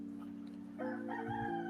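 A rooster crows once from about midway, a loud drawn-out call over a steady low hum, with a couple of short clucking notes near the end.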